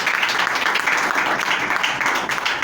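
A church congregation claps steadily throughout, a dense wash of applause that neither swells nor fades.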